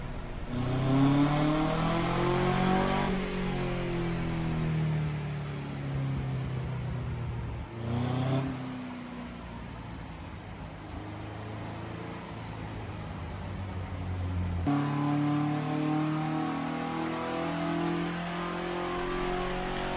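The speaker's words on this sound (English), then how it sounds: "It's got a nice, different exhaust note." A Gibraltar MK car engine revs up and down repeatedly, its throaty exhaust note rising and falling in pitch, loud and close.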